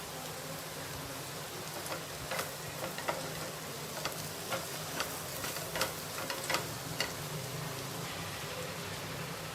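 Chicken frying in a pan as masala powder is stirred in: a steady sizzle with scattered crackles and stirring scrapes, fairly close and at an even level with no talking.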